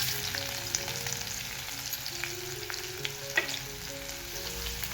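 Chopped onion sizzling in a pan of hot oil with golden fried garlic for a carrot-greens vegetable dish, a continuous close frying hiss with occasional stirring scrapes and pops.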